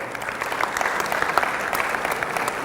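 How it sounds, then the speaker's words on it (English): An audience at an MBA entrance exam seminar applauds steadily for a few seconds, a dense, even patter of many hands clapping at moderate volume. "Big round of applause for her."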